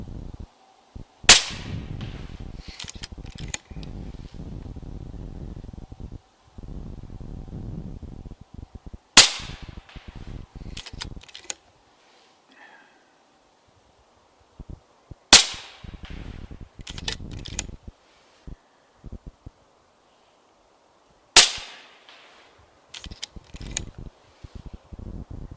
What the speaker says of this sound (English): Let's go ahead and send another magazine downrange and see what we get with that.